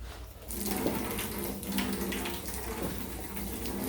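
Water gushes from a tap as a rabbit cage is rinsed, making a steady, fairly faint splashing hiss with slight variations as the stream hits the plastic.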